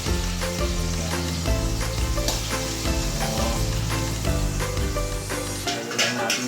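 Marinated chicken hits a hot pan and sizzles loudly and steadily, with frying crackle and stirring throughout and a voice speaking faintly underneath.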